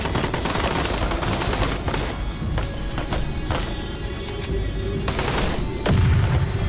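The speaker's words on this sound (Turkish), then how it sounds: "Yani güzel bomba da işlevi kötü oldu." Bomb blast and heavy gunfire in the real-time strategy game Call to Arms, a dense, loud battle soundscape of repeated shots and booms with a deeper explosion burst near the end.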